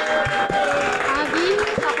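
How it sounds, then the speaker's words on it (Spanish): Applause and crowd noise at a birthday party in a bar in Estepona, clapping mixed with lively voices and talk throughout, fairly loud and close. "Aquí, bajo los aplausos, Daniela"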